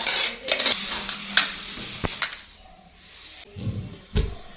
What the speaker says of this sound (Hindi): अब इसके ऊपर जा रही है कढ़ाई।